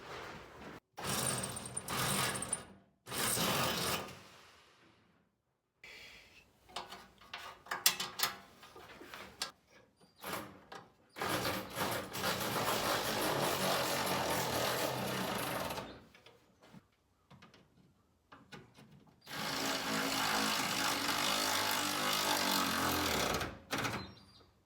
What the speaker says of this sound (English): I'll try and drill them from behind.